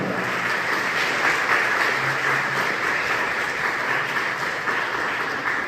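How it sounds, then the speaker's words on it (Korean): Wedding guests applaud together at a ceremony, a dense, steady wash of clapping that stays loud and even for several seconds with no voices on top. "큰 박수 부탁드립니다"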